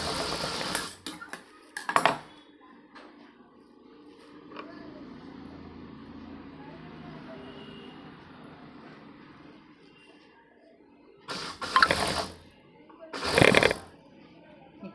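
A sewing machine stitches a blouse with a steady, fairly quiet mechanical whir that runs for several seconds. Louder handling knocks come before and after it, and a person speaks nearby.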